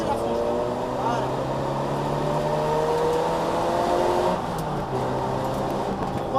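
A race car at full throttle on a track after a corner, its engine a steady, loud, droning roar with rising harmonic tones throughout, heard from inside the car.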